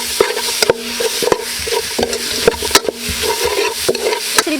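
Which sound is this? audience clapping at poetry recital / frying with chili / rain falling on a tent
frying with chili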